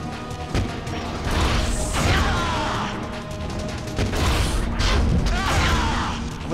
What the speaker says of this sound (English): If you listen out for the explosions